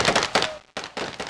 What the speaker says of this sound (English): In October, Libyans greeted the death of the dictator with celebratory gunfire.